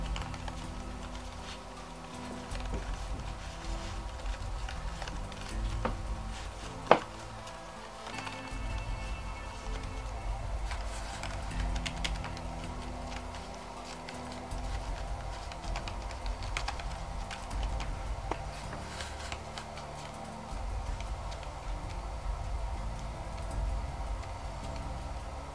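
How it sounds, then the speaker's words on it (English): Typing on a Mac keyboard fitted with a Rearth Verco keyboard cover gives soft, muffled key clicks in steady bursts throughout, close and fairly quiet, with no talk. "it would lessen the noise if you were typing with this keyboard cover on"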